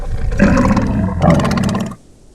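A deep, loud roar in two surging bursts, the second swelling again before cutting off abruptly into near silence; a carnivorous dinosaur's bellow in the game Path of Titans.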